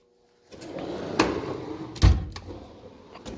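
Two short sliding knocks from a drawer in a MATCO toolbox stocked with Snap-on tools, one around the middle and a heavier thud just after, close by over a low steady background with no talking.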